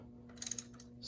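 Ratchet tightening bolts on the aluminum valve cover of a BMW 1.9 engine, a quick run of four faint clicks over a low steady hum.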